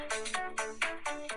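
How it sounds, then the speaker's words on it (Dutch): A smartphone ringtone plays a bright, repeating electronic melody of short chimed notes in a steady rhythm, clear and close with no voices. "Is het jouw telefoon die belt of die van iemand anders?"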